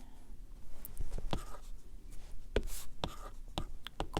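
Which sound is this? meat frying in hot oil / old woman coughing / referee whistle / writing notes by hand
writing notes by hand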